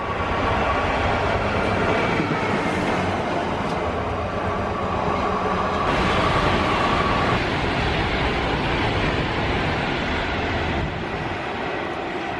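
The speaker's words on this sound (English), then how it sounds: "it's a track machine" A railway track machine rolls past with a loud, steady rail rumble and metallic clatter, the noise filling the scene continuously and swelling slightly midway as it goes by.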